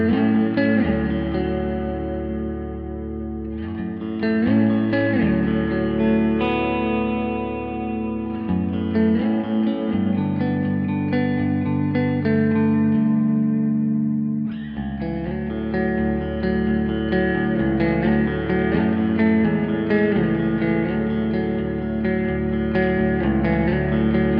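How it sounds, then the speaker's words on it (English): Sustained chords ring out and hang in a big, open, spacious concert-hall reverb on a Quad Cortex mini, modeled on the concert hall mode of Valhalla Vintage Verb, with notes blooming and overlapping steadily throughout. "Nordic Concert Hall is inspired by the concert hall mode of Valhalla Vintage Verb. It's big, open, and spacious"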